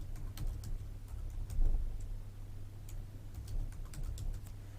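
A password typed on a computer keyboard, soft, quick, irregular key clicks at close range over a steady low electrical hum.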